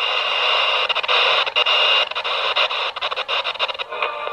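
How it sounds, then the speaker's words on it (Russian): A portable digital FM/AM radio receiver hisses and crackles steadily as it scans for a station, with a loud, continuous band of static broken by short dropouts and clicks. "Вот, включаем радиоприемник, ищем станцию"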